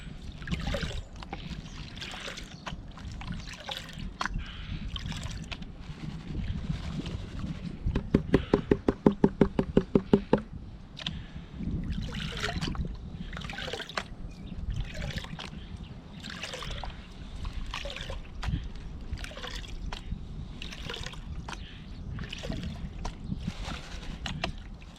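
Water sloshes and splashes repeatedly in a gold pan at a swimming hole, with rhythmic swishes and a brief burst of rattling gravel partway through.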